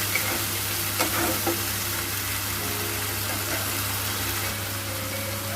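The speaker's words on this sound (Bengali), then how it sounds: "দিয়ে ভালো করে নাড়াচাড়া দিয়ে একটু ভাজা ভাজা" Ground spice paste frying and being stirred in a pan for a pangas fish curry: a low steady sizzle with a few scraping taps from the spoon, over a constant low hum, fairly quiet.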